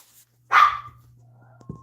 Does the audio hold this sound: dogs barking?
yes